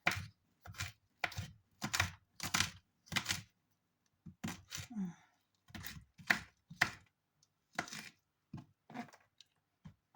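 Garlic pounded and chopped into small pieces on a board for scrambled egg with shrimp and tomatoes, a rapid run of close, crisp knocks and chops in bursts with short pauses.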